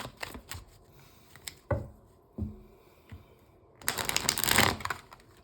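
Tarot cards are shuffled by hand in a quiet room: a few soft taps and handling clicks, then a brief, dense riffling burst near the end.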